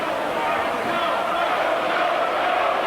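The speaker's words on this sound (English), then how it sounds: "And this local crowd, of course, very firmly behind Chistophe Tiozzo." A local boxing crowd at the Palais de Sport in Marseille roars steadily in a dense, continuous wash of cheering and shouting from a large arena audience.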